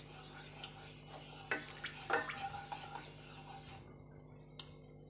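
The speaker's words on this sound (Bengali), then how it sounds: "আমি গ্যাসে কড়াই বসিয়ে দিয়েছি, দিয়ে দিচ্ছি সর্ষের তেল।" Mustard oil heating in an iron wok on a gas stove, giving a soft continuous sizzle with a few scraping stirs in the middle and a brief clink near the end, with no voices.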